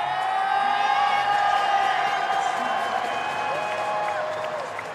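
Crowd at a boys' high school basketball championship in a gym, applauding and cheering loudly and steadily, with whoops and a continuous wash of clapping that tapers slightly toward the end.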